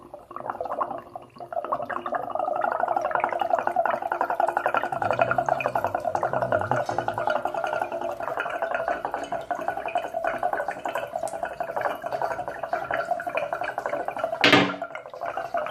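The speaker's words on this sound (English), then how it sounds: "And let the water just fall out." Water runs and trickles steadily from an old shower valve cartridge of a Moen 1225 shower handle, a continuous splashing drain with a brief sharper clatter near the end.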